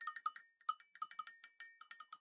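A small cowbell is jingled close by, giving a rapid run of bright metallic clinks and rattles in uneven bursts, soft and alone.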